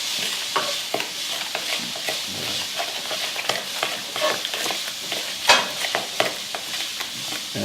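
Whisk or spoon mixing a heavy whipping cream mixture in a bowl, repeated wet clicking and scraping strokes in an irregular rhythm, close up with no talk.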